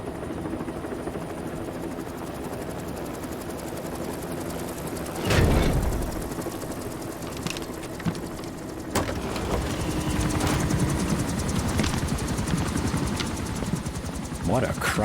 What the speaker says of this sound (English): What a crowded helicopter.